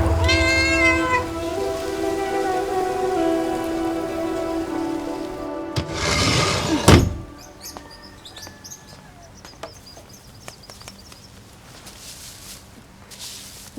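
A kitten meows repeatedly in a series of high, tonal cries over the first second or so; after a loud burst around the middle, fainter high chirps and small sounds continue in a quiet room.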